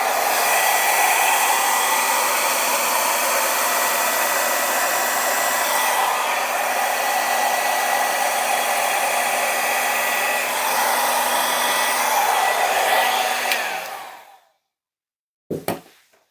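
A hair dryer blows steadily and loudly across wet acrylic paint for a red Dutch pour, a constant whooshing roar that runs about fourteen seconds, then cuts off, followed by a brief soft knock.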